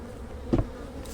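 Honey bees buzzing faintly around a hive entrance during spring hive work, a soft steady drone with one brief louder swell as a bee passes close.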